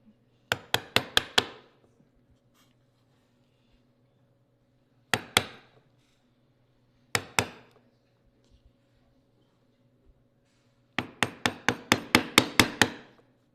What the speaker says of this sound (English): Little tedious because you have to do this with a small chisel in order to get down in those tight spots.